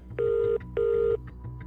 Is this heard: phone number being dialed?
yes